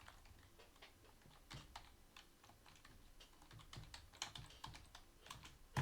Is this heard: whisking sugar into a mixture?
no